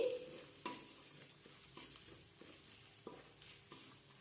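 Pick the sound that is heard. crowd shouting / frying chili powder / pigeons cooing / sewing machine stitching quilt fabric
frying chili powder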